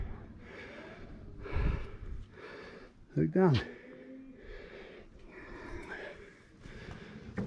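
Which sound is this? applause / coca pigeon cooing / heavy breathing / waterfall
heavy breathing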